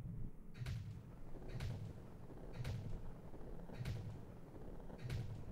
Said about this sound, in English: Fireworks, yay.